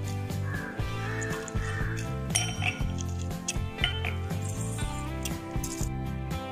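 Glassware and utensils clink repeatedly and close by while a mojito is being mixed, a busy run of light chinks and taps over a steady background, with no voices.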